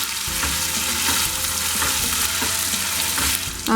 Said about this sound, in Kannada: ಸ್ವಲ್ಪ ಏನೋ ಆಯಿಲ್ನಲ್ಲಿ ಈ ಥರ ಫ್ರೈ ಮಾಡ್ಕೊಂಬಿಡಿ ಇದನ್ನು ಚೆನ್ನಾಗಿ ಮಿಕ್ಸ್ ಮಾಡ್ಕೊಳ್ಳಿ